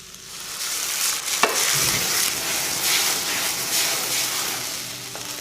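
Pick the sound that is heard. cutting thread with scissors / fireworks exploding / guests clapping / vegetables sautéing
vegetables sautéing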